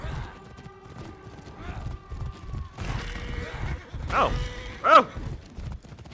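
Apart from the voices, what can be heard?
horse galloping in the video game For Honor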